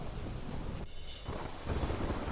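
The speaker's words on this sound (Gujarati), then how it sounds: "ધોધમાર વરસાદ ખાબકતા મુખ્ય માર્ગો પર ફરી વળ્યા વરસાદી પાણી" A broad, rushing roar of heavy rain, constant and loud, with a brief dip in intensity partway through.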